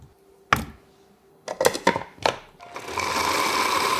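A few dull knocks and clunks, then a blender motor kicks in and grinds sliced potatoes to coarse sand-sized bits with a steady, loud, coarse whir.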